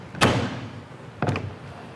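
The solid entry step of a 2020 Dutchmen Aspen Trail 2910BHS travel trailer is pushed up and locked in place, giving two sharp, close clunks about a second apart, each with a short ringing decay.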